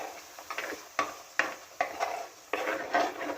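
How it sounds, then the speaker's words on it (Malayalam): A spoon scrapes and stirs finely ground masala paste frying in oil in a pan for a fish curry, giving repeated sharp strokes about every half second with a faint sizzle between them. "ആ ഫൈൻ പേസ്റ്റാക്കിയ അരപ്പൊന്ന് വഴട്ടണം ഈ എണ്ണയിൽ"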